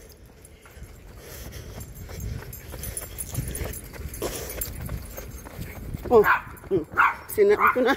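A dog barks in a parking garage on a daily walk, with sharp echoing barks and yips that break out near the end, after a person talks quietly over footsteps and room noise.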